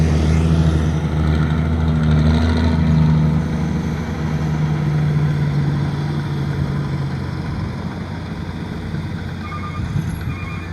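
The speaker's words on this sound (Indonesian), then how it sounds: "masih terlihat truk yang membawa tanah timbunan pada sore hari ini" Dump trucks carrying fill soil at a toll road construction site rumble and idle nearby, a steady loud engine drone with a faint beep late on.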